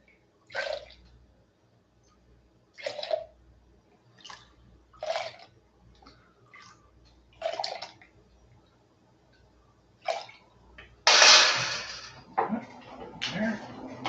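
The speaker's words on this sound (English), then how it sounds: "So I need to get this one going. Rinse it out." Water splashing and sloshing in a home-brewing vessel during rinsing, with intermittent separate splashes and a louder burst of running water toward the end, near and fairly clear.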